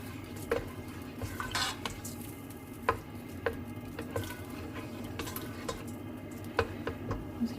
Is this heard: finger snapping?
no